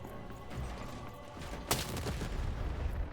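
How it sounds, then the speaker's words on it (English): Cannon fire in the video game Lost in Random: one sharp, loud blast stands out midway through a dense, continuous din of game combat noise. "Shoot the button to fire the cannon."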